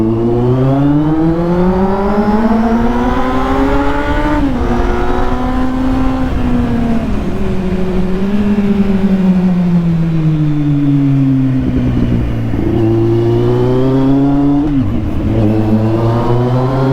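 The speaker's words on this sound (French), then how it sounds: "Donc là la moto elle est chaude mais j'y vais tranquille quand même." A Kawasaki Z800 motorcycle engine runs continuously while riding on a slightly wet road, its pitch rising and falling smoothly with throttle changes, loud and close throughout with no talking.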